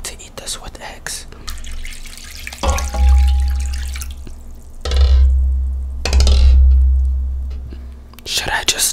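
Tap water running into a pot for boiling eggs, in several loud close bursts of gushing flow with pauses between, beside a quiet home kitchen with soft whispering around the pours.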